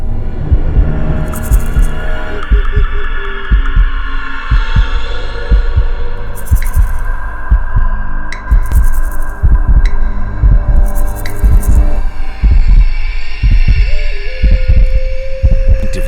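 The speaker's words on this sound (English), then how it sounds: "she grabbed her phone and retreated to a closet, heart pounding in her ears" A heartbeat sound effect throbs loudly and steadily through a low droning hum, with deep repeated thumps in a pounding rhythm and a few brief higher bursts of noise between them.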